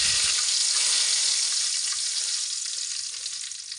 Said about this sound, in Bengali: সরিষার তেল গরম হয়ে আসলে সরিষার তেলের মধ্যে দিয়ে দিচ্ছি